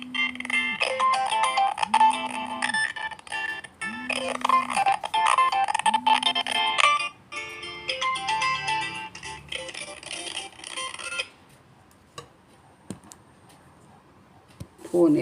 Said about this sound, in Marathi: फोन येत आहेत सारखे